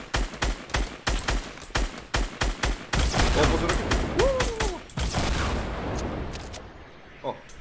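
A grenade blast and rapid gunfire in the Fortnite Battle Royale video game. Steady bursts of shots lead into a loud sustained rumble, which fades into a softer wash while players talk over it.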